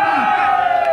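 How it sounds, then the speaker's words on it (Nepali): A short, loud burst of crowd cheering and shouting voices rises at a kabaddi trophy ceremony as the winning team from Rolpa municipality is honoured. "सबैजनाले ताली बजाएर सम्मान अनि बधाई ज्ञापन गरिदिनुभयो"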